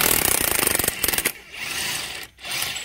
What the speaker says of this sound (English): I should be able to get right on there with an impact and a 15 swivel